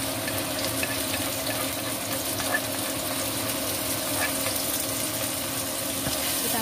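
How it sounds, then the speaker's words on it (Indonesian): Ground spice paste sizzles in hot oil in a wok, a constant dense hiss and crackle holding steady throughout with no talk over it. "Kita tumis sampai harum ya guys."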